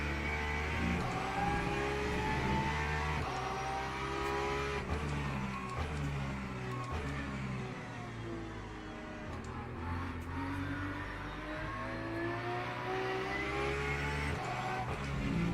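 An LMP3 prototype race car in the Le Mans Ultimate sim roars steadily, its engine note rising and falling through gear changes as it closes in, loud and continuous with no talking.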